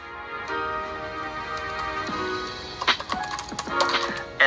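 Quick, close, light clicks of typing on a computer keyboard as a command is entered in a terminal, with a steady tone droning underneath.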